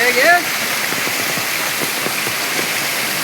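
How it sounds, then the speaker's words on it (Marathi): A waterfall and heavy rain in forest near Bhimashankar make a dense, steady roar of rushing water from start to finish, with a brief voice at the very beginning. "हा धबधबा बघा, वरून भरपूर धबधबे आहेत."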